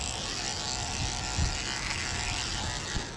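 Electric pet clippers fitted with a number 3 blade trim a damp Maltese while a fan runs, giving a steady, close, continuous buzz throughout with no talking.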